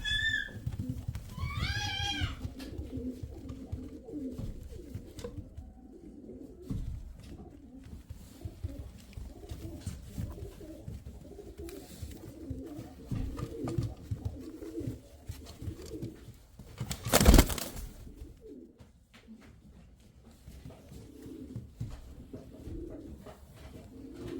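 Racing pigeons, Ankara tumbler birds, cooing and murmuring in a loft, a steady low burbling chorus throughout with a few brief higher bird calls early and a sharp bang or clatter near the end.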